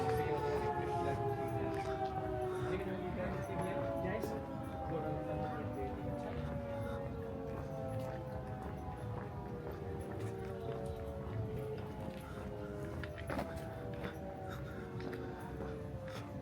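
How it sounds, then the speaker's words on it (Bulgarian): Wailing siren in Pucón, Chile, a town near a volcano, its rising and falling tones repeating steadily throughout at moderate distance over continuous background noise. "Чува се сирена."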